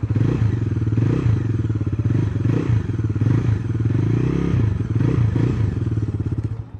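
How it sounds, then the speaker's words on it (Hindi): A Bajaj Dominar 350 with a dual-barrel exhaust idles in a deep, bassy, steady thrum, loud and close with a rhythmic low pulse throughout. "इसका ये डुअल बैरल एग्जॉस्ट सिस्टम बहुत पहले से फेमस है अपने साउंड की वजह से"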